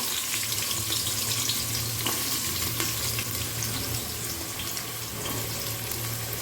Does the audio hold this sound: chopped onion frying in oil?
yes